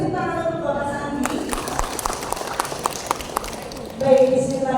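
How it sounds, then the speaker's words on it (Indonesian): An audience at a talk show and teachers' workshop breaks into scattered applause between spoken remarks, a run of sharp claps lasting a few seconds before voices resume. "Boleh tepuk tangan untuk Bapak Sandi."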